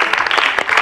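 A brief, dense burst of audience applause at a Punjabi quiz show, loud and continuous for under a second with no talk.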